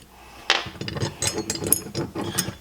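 A ratchet wrench turning bolts on a Jeep Gladiator dead pedal, close, with quick clicking strokes in an uneven rhythm over about two seconds.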